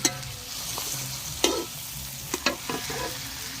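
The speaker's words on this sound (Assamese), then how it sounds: "এতিয়া ভাজিব লাগিব" About a kilo and a half of meat frying in a pan: a steady close sizzle runs throughout, broken by sharp scraping and clacking from stirring.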